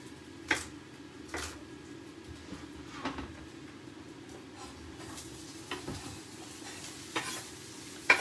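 Vegetables and onions frying in coconut oil in a pan give a low, steady sizzle with occasional clacks of a utensil stirring, fairly quiet and with no talking.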